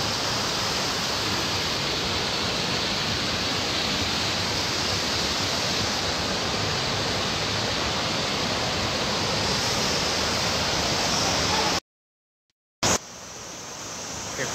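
A waterfall roars as a steady, loud wash of broadband rushing water. It cuts to silence briefly near the end, then resumes more faintly.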